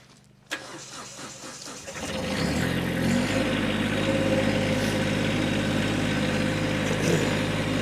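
A 2016 Kubota B2301 23 HP compact diesel tractor loader cranks briefly, then catches and settles into a steady, close diesel idle with a low, even rumble.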